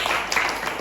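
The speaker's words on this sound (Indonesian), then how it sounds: "Kita beri tepuk tangan." Brief burst of crowd applause at an Indonesian election commission year-end event, many hands clapping together in a dense, steady patter.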